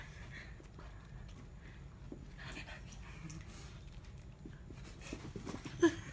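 A dog pants and whimpers while playing, a steady breathy rasp running throughout, with a sharper yelp near the end against a low background rumble.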